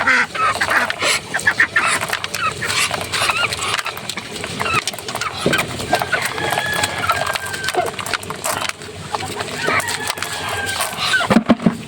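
Several pet ducks quack and honk repeatedly at close range, with brief bursts of calling over a steady background; a person speaks faintly at times.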